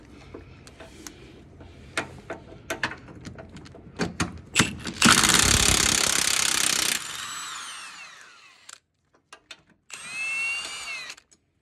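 Ratchet wrench backing off an 18 mm cab mount bolt under a 1999–2007 Ford Super Duty frame, a series of sharp clicks and metallic clacks, then a dense burst of rapid ratcheting and short bright ratchet runs nearby.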